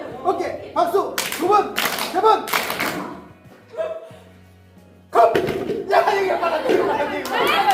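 High school girls in a cup stacking class game clap in sharp bursts, loud and close, with chatter and shouting between the rounds and a quieter pause in the middle.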